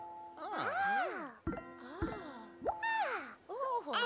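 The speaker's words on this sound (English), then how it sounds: "there was a ringing sound." The Tubby phone from the Teletubbies rings with a bright, warbling electronic melody, rising and falling tones in several short bursts separated by clicks, close and clear with no talk.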